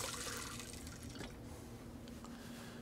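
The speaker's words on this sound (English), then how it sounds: "Now we're going to add some water in there to make 3/4." Water poured steadily into a measuring cup over an egg and vinegar mixture while making a wild turkey pot pie, a continuous close pouring rush with no talk.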